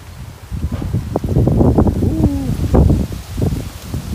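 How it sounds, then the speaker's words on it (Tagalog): Strong wind gusting through leaves at a rural goat farm as rain approaches, a continuous rustling roar that swells and eases throughout, loud and close to the microphone. "Lumakas na yung hangin."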